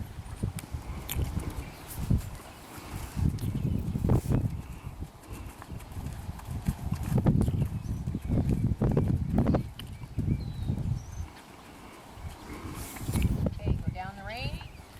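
Horse hooves step slowly on soft ground, a loose irregular series of muffled thuds, mixed with rustling and someone speaking.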